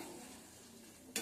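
Tomatoes and other ingredients sauté in oil for a kuzhambu curry, giving a soft, steady sizzle with faint stirring throughout and a brief louder scrape at the very end.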